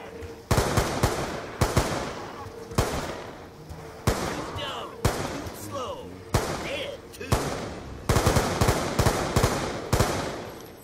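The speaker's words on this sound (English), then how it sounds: "Keep on shooting him." Call of Duty Zombies on the Buried map: repeated loud gunshots fired at a zombie, sharp cracks in quick bursts and single shots spread across the stretch, with a few short gaps and faint other noises between volleys.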